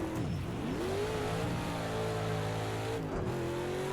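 Race car engine in the racing game Project Cars 2 at Bathurst, loud and close, revving with rising and falling pitch as it shifts gears and brakes into a corner, then accelerates again.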